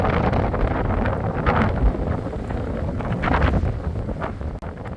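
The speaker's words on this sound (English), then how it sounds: "the wind's really blowing now." Strong wind gusts across a farm on a chilly morning, a loud continuous roar buffeting the microphone with no break throughout.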